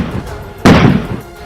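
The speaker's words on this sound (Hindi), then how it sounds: "पुलिस की तरफ से छोड़े गए आंसू गैस के गोलों की वजह से वहां तेज धमाके जैसी आवाजें सुनाई दी" A tear gas shell fired by police at a farmers' protest near Delhi goes off with a single loud, sharp bang that rings out briefly over a quieter background.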